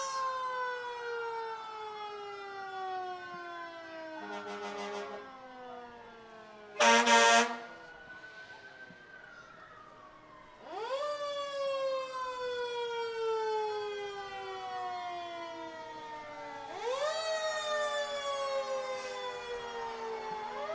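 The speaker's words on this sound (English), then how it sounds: "We have the forestry fire truck out," Fire trucks, including a forestry fire truck and engines from Berwick, Rollingsford, Dover and Somersworth, roll through a Christmas parade with loud wailing sirens that rise and fall repeatedly, overlapping one another and broken by a blaring air horn blast.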